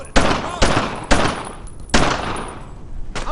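Bursts of gunfire in the World War II shooter Brothers in Arms: Earned in Blood, with four or five loud, sharp volleys in quick succession, each trailing off into rumbling echo, and a faint shout between them.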